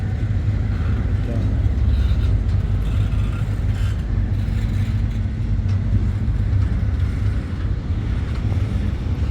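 Long CSX intermodal freight train rolling past, a steady, loud, unbroken rumble and roar of wheels on rail with wind buffeting the microphone, continuing throughout.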